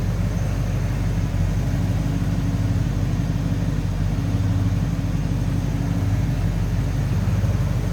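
A 429 V8 in a 1969 Mercury Marquis convertible idles smoothly with a steady, even low rumble, loud and close, running alone without speech.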